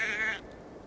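A sheep in Assassin's Creed Valhalla gives a single short, nasal bleat up close, which cuts off quickly and leaves a faint ambient hush behind it.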